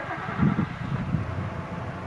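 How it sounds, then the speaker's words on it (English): A video game engine sound effect: a low engine rumble revs unevenly in the background, muffled and moderately distant, as if outside, with no voices. "I hear the sound of an engine revving outside."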